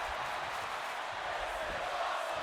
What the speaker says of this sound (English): The crowd have just not stopped chanting, this is awesome.